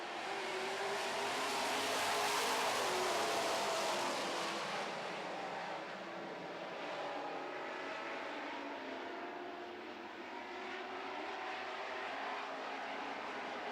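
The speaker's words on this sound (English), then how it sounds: "here we go racing in the Super Truck division" Super Truck division racing trucks roar around a race track, the engine noise swelling as they pass and then settling into a steady, distant drone.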